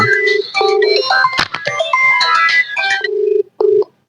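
A phone's electronic ringtone plays a busy, repeating melody with short tonal beeps, close and loud, cutting off abruptly at the end.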